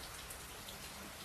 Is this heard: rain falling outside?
yes